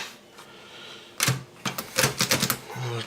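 Typing on an Olivetti Underwood 21 typewriter, a burst of sharp mechanical key strikes in an uneven rhythm, close and fairly loud, with a soft clunk of the mechanism before and after.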